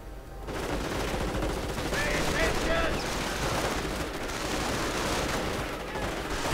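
Grenade blasts and gunfire from a WWII strategy video game, with grenades bursting against Panzer tanks; a dense, continuous wall of battle noise with rattling shots and booms layered throughout, steady and loud without a break.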